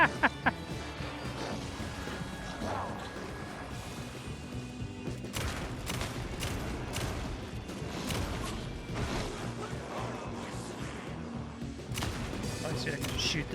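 Gunshots in the video game Alan Wake 2: Night Springs, loud sharp blasts in scattered bursts and quick volleys, with whooshing game effects and a voice talking over parts of the action.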